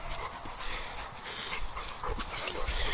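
A dog whimpers and pants steadily while playing with another dog indoors, with a continuous breathy, noisy texture and small whines over about three seconds.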